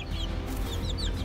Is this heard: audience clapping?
no